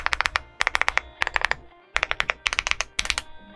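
Fast bursts of sharp, close keystrokes come from a Leobog Hi75 mechanical keyboard, tapped in quick clusters separated by short pauses, with no voices.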